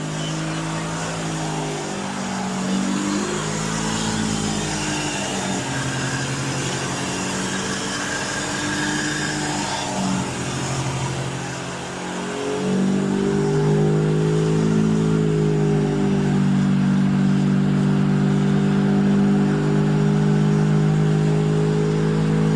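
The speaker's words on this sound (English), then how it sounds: "This tire, it makes so much noise." A Mazda CX-5 tire drones loudly as the wheel turns, a low humming roar that shifts pitch and grows steadier and louder halfway through, with faint speech at times.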